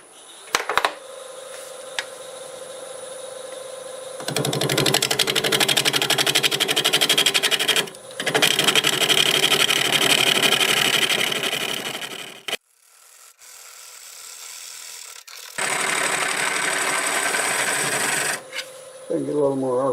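A wood lathe spins a camellia stump at around 1400 RPM, giving a loud steady whine and a gouge scraping in long sustained bursts separated by short pauses and near silence.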